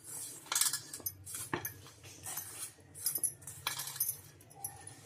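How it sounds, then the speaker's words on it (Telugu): Maida flour dough being mixed by hand in a bowl for homemade biscuits, giving soft irregular rubbing with light clinks of a utensil or bangles against the bowl, close and quiet. "ఈ మైదా కూడా వేసుకున్న తర్వాత బాగా కలిపేసుకోవాలి"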